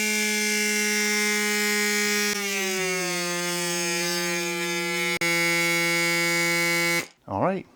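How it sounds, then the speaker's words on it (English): A portable electric pump inflates a 700x25C road bicycle tire toward 80 PSI with a loud, steady whining buzz. The pitch drops slightly as pressure builds, a short warbling beep follows, and it then stops. "Turn on the pump, 80 PSI, wait for it to 0."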